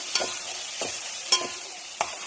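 Fish goes into a hot pan of oil with fenugreek seeds and fries with a steady sizzle, broken by a few sharp stirring or dropping hits, with no talk.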